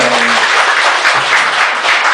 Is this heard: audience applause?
yes